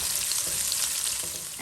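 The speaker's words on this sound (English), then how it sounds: "I will go in with my cloves, and I'm going to go in with some freshly chopped onion" Chopped onion and whole cloves sizzling steadily in hot oil in a pan for a Guyanese geera pork dish, a continuous close hiss alone without talk.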